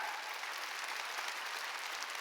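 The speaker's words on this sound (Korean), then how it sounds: "왜 박수 안 쳐?" A church congregation claps together in dense, sustained applause during a Sunday worship service, loud and even from start to finish with no pause.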